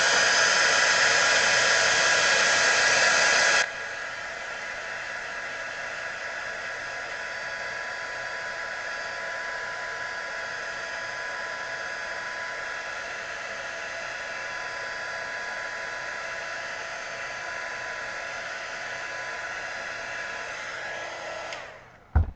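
A hair dryer or heat tool blows steadily over wet paint on a metallic mat and collage craft project, loud and close at first, then dropping to a softer, even whir that runs alone for about twenty seconds before a clunk as it switches off.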